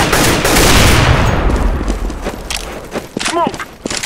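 A grenade thrown in CS:GO on the Dust2 map, heard as a loud burst of explosive game noise and clattering gunfire that fades into scattered clicks and thuds, with talk over it.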